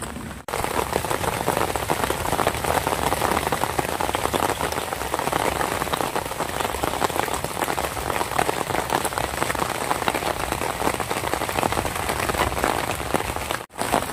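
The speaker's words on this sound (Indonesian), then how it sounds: "Ah ini masih hujan." Steady, dense rain falls on and around an old, long-neglected fishing pond, a loud even hiss of drops striking water and surfaces that runs unbroken throughout with no talk.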